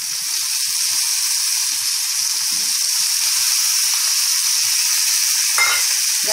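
Chicken pieces fry in a pan with tomato and onion, giving a steady, even sizzle close by. A few soft clinks sound faintly underneath.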